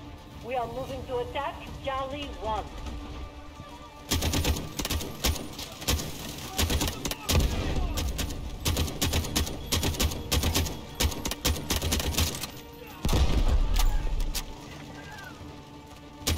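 Gunfire in the Delta Force shooter video game comes as rapid bursts of sharp clicking shots mixed with single shots, spread across the stretch. Someone talks over and between the bursts.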